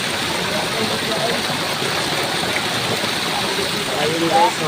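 Water rushes steadily at Tungtong Falls in the Philippines, a loud, continuous broadband roar from the flowing stream, with a brief spoken phrase faintly riding over it.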